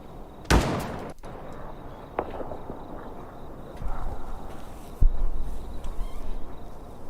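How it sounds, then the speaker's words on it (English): Gunfire in The Day Before video game: a sharp single shot rings out, followed by scattered fainter pops and another loud crack later, over a low ambient background. "I guess I'll just go up and shoot him."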